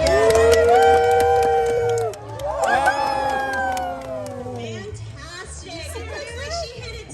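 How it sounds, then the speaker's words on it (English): A crowd of spectators, children's voices among them, cheers and shouts loudly for Zoe the seal at a seal show. The roar stays sustained and close, swells again after a brief dip, then gives way to looser chatter. "we're going to cheer Zoe on as loud as we can"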